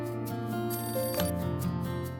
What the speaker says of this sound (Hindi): प्लीज प्लीज प्लीज फोन उठा लो, प्लीज, भगवान समीर घर पर ही हो।